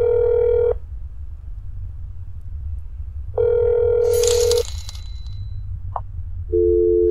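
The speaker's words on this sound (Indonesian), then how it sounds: "Coba gue telepon dulu ya." In the horror game That's Not My Neighbor, a telephone's steady electronic tones sound in separated bursts, with a short dialing beep and a scratchy noise between them, clear and close.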